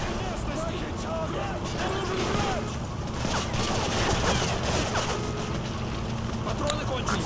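Rapid volleys of gunfire in Call of Duty Modern Warfare 3 crackle and rattle continuously at a moderate level, mixed with a dense game soundscape and what sound like voices.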